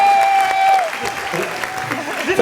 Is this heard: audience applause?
yes